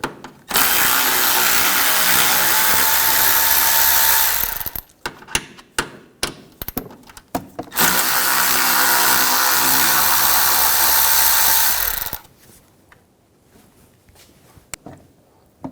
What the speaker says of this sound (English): we're going to take these two nuts off, use a 10mm socket